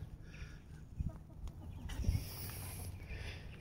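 Young Rhode Island Red chickens in a finishing pen cluck and chirp softly nearby, scattered low calls over a quiet background with a slightly busier moment around the middle.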